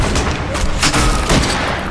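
Gunfire crackles through a tense scene in The Walking Dead: Final Season video game, several loud, close shots bursting in quick, uneven succession over a busy, noisy background.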